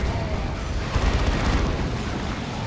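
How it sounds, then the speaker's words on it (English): Lascannon fire and explosions roar continuously in a Dawn of War 2 Warhammer 40,000 battle against Tyranids, a thick, booming wash of blasts and rumble with no clear gaps. "Yep, las cannon's getting it done"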